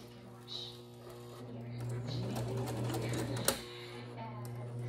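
A sewing machine hums steadily at close range while stitching shrub cover fabric, with a sharp click partway through and a person speaking over the mechanical whir.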